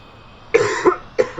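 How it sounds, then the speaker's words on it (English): Two rough coughs close to the listener, about half a second apart, each a short harsh burst against a quiet background. "Sorry for the coughing."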